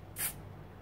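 A short, soft hiss of spray paint aimed at a hot glue tree, a single quick burst lasting about a tenth of a second against a quiet background.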